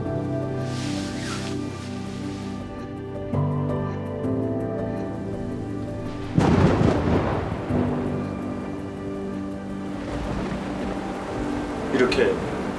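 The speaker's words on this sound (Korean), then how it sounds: "이렇게 세찬 바람이나 심한 비가 내리면 반드시 일어나야 합니다." Heavy rain falls steadily while thunder rumbles, and strong wind gusts through, with a loud swelling roar midway and again near the end. A voice speaks over it.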